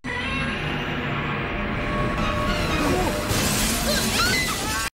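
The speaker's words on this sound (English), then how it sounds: "Damn, a window-shattering roar." Godzilla's roar from the film Giant Monsters All-Out Attack, a loud, sustained and dense bellow mixed with the crash of shattering windows. It fills the entire five seconds at a constant high level, then cuts off abruptly.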